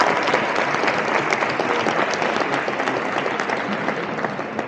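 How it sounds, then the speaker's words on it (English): Dense, sustained applause from a large convention audience at a blockchain event in Barcelona, steady and loud throughout with a slight fade toward the end, no voices standing out. "So yeah, let's start with a big applause."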